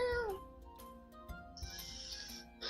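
Human voice mimicking a creature's purring and guttural growls, a short throaty rasping sound with a wavering higher note at the start, quiet and close.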